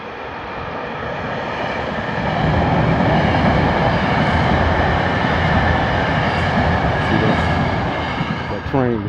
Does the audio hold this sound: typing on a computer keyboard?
no